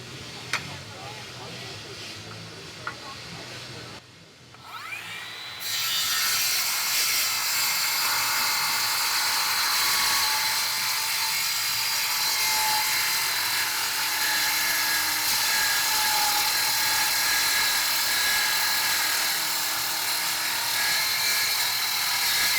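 A 6,000 RPM handheld cutting tool, not a dedicated metal cutter, saws through a half-inch construction steel flange. A quieter start gives way to a loud, continuous, high grinding whine that holds steady from about five seconds to the end.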